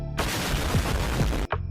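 Loud, continuous explosive rumble with crackling blasts as docks are blown up in a video game cutscene, a dense roar lasting over a second before cutting off abruptly.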